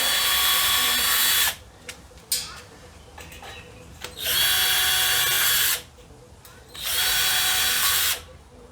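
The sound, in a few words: power drill drilling pilot holes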